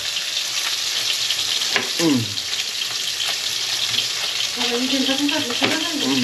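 Fish frying in a pan gives off a steady, close, crackling sizzle that fills the whole stretch, with a couple of brief, faint vocal sounds over it.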